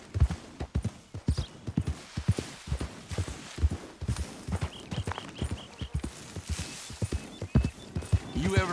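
Horse hooves in the video game Red Dead Redemption 2 clip-clop in a steady walking rhythm throughout, with a horse whinnying and people talking over the hoofbeats.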